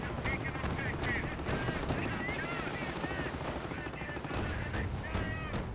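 A Flak 88 gun and other weapons firing in a Company of Heroes battle, busy overlapping gunfire and explosions under continuous commentary.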